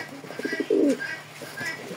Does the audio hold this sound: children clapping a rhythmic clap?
no